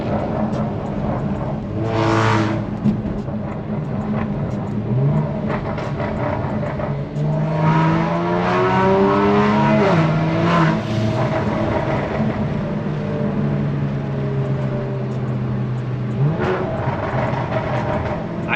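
A tuned Kia Stinger drones steadily through its exhaust while driving, a loud continuous engine hum with pitch rising and falling as the car shifts and accelerates, heard close and alone throughout.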